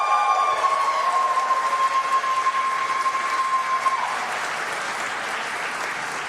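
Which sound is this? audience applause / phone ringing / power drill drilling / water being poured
audience applause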